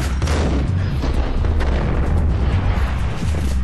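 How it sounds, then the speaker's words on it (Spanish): Heavy booms and bursts of gunfire in Max Payne rumble continuously, loud and dense, with overlapping low-frequency blasts and no clear pauses. "¡Ay, los tiros!"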